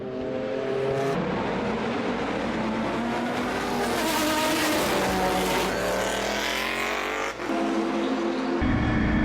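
Vintage endurance race cars scream past at Spa one after another, engines rising and falling in pitch as each car approaches and recedes, loud and continuous with no pause between passes.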